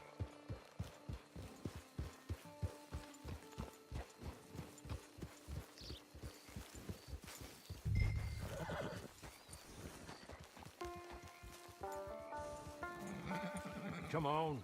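A horse in the Western video game Red Dead Online trots with steady, close clip-clopping hooves, then gives a loud whinny near the end over a soft musical background.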